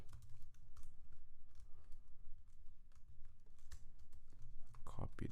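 Fingers type on a computer keyboard while coding an HTML signup page, a quiet, steady patter of clicky keystrokes with brief pauses between them.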